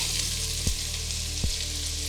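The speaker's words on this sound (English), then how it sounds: "I'm gonna go ahead and turn my back onto medium and add my onions that I chopped earlier." Chopped onions frying in bacon grease in a pan over medium heat give a steady, close sizzle throughout, with two brief knocks of the pan or spoon.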